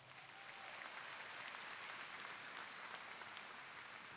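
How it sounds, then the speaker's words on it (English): An audience at a graduation ceremony claps in a steady, even patter that swells in quickly and holds for a few seconds, heard from some distance. "Let's give Aiden a round of applause."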